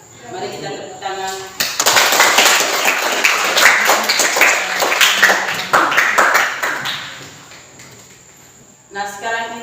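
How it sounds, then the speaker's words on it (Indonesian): A class of students clapping hands together, loud, close and fairly rhythmic bursts of claps lasting several seconds, with voices before and after and chatter mixed in. "Mari kita tepuk tangan."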